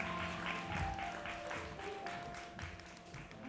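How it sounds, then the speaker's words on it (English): Audience applause at a hip hop and percussion drummer jam in the Bronx, a dense steady patter of many hands, moderately close and fading slightly toward the end, with no talk over it. "Clap it up for that."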